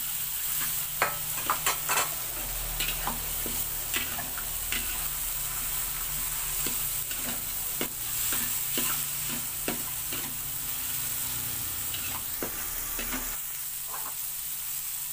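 Tomato and chili stir-frying in a pan, with a steady loud sizzle throughout and repeated sharp scrapes and taps of the spatula as the ingredients are tossed.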